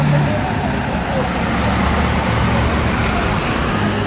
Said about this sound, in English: And here comes our bus.